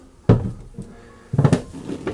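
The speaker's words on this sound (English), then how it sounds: "Sliding galley compartments." Sliding galley compartments aboard a 2008 Morris M36 sailboat, heard as two distinct knocks with a soft slide between, a near thud followed about a second later by a second bump, alone and with no talk.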